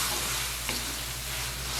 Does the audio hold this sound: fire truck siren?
no